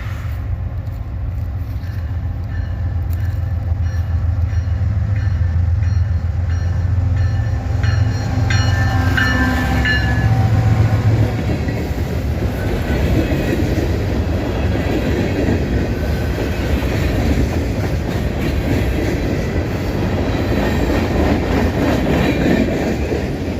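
Kansas City Southern locomotives of the Abbeville switcher train roll past in South Carolina, a loud, steady rumble with rail clatter and engine drone building and holding throughout, no voices.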